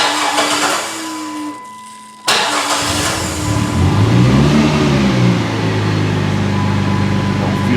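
After a brief quieter stretch, a Plymouth Prowler's engine abruptly fires up after a fuel pump replacement and runs loudly and close by, its rough idle rising and wavering in pitch.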